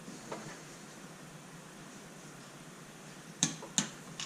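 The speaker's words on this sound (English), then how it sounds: "And that clicking noise means that my 24 foot-pounds has been reached." A torque wrench on a motorcycle cylinder head gives two sharp, close clicks in quick succession near the end, as 24 foot-pounds is reached, after a quiet stretch of faint background hiss.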